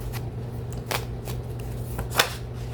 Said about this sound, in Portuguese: Vou tirar aqui 3 cartas do tarô do Osho